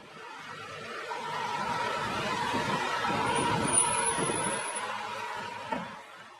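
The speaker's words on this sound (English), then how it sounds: "garbage truck" A garbage truck rumbles past with a broad, steady roar that swells and fades, topped by a brief high hiss like an air brake midway and a knock near the end.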